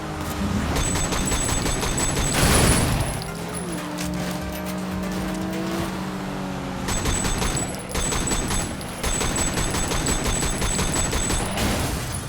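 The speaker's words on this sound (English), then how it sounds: "you can fire from your vehicle in full slow-mo with an automatic weapon" Automatic weapon fire in the open-world crime game Sleeping Dogs, a dense rattle of rapid shots mixed with car engine roar and screeching, loud and continuous with a brief lull in the middle before the shooting resumes.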